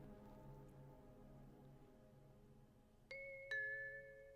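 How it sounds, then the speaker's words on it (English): A doorbell in the Little Busters visual novel rings through a house, two bright chimes in quick succession near the end after quiet low background music. "All of a sudden, the sound of a doorbell rang throughout the house."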